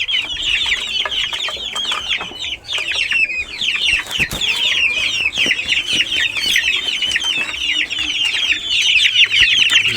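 Young gamefowl chicks eating mixed feed, a dense continuous chorus of close high peeping and soft clucking with occasional pecking taps, no talk.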